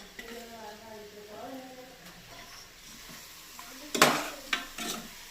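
Marinated chicken dropped into a pan of fried onions for chicken biryani gives a brief loud sizzle, then scraping stirs; a voice talks softly early on before the splash.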